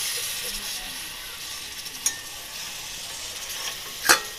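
Doi katla fish curry simmers in a pan, a soft, even hiss with a light stir and two sharp metallic clinks of a utensil against the pan, no talking.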